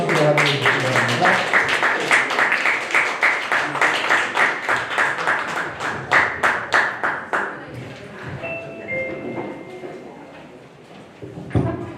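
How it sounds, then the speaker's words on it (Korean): Audience clapping at a 2022 small-business network workshop in Jeollabuk-do: brisk, close, somewhat rhythmic handclaps for about seven seconds, then dying away into quiet room murmur with a few faint tones. "큰 박수로 함께 해주시기 바랍니다."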